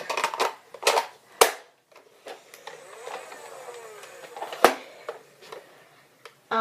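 A Nerf Demolisher blaster fires in sharp, close clicking snaps, a few spaced shots with mechanical rattles between them.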